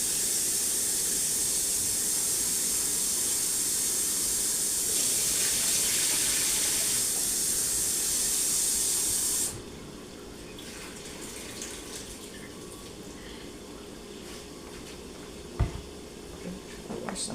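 Tap water runs steadily over raw chicken being washed for Jamaican brown stew chicken, a loud broadband rush for about nine seconds, then dropping to quieter kitchen handling with a brief clatter.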